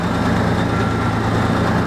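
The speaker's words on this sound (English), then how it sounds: "This is the Kenworth Log Truck." A Kenworth log truck's heavy diesel engine idles close by, a steady low rumble with a constant drone that holds even and unbroken throughout, with no voices over it.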